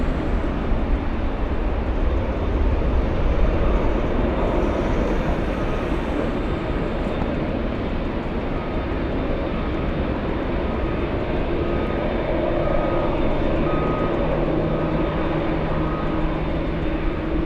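A Boeing 757 departing LAX, heard as a steady, broad jet-engine roar that holds throughout at fairly high level, with no voices.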